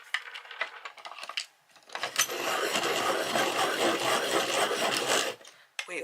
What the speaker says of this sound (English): it'll be noisy on my hand crank sharpener